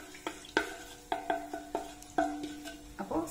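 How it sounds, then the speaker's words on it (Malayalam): Chopped onions sizzling in hot oil while a metal spoon stirs and scrapes the pan in quick irregular clanks, close and clear with no talk, for a vegetable pulao. "എണ്ണ നല്ല ചൂടായിട്ടുണ്ട്, സവാള ഇട്ട് കൊടുക്കും."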